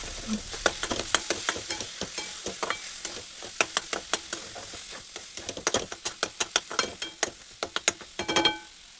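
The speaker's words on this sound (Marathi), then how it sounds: "बारीक वाटून घेतलेले गाजर, परत वटाणे असं सर्व छान भाजून घ्यायचं" Finely ground carrots and peas frying in a pan for veg crispy bread rolls keep up a constant sizzle, broken by rapid clicking spatula scrapes and stirs that grow busier toward the end.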